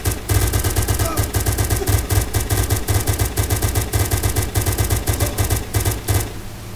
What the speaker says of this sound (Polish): Słyszę jakiś silnik.